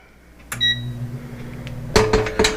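An air fryer's control panel beeps as the temperature is set to 370 degrees and the timer to 8 minutes while cooking a Philly cheese steak sandwich: one tone near the start, then a quick series of three short beeps near the end, with faint background hum.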